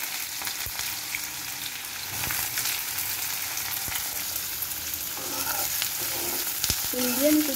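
Onions fry in a pan for chicken masala, giving a steady, close sizzle with occasional stirring clinks and scrapes throughout.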